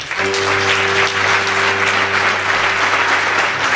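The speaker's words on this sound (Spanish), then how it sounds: "nós pedimos o noso aplauso" A crowd at a Celtic music festival in Galicia claps in a loud, continuous wash, with a steady sustained tone holding underneath the applause.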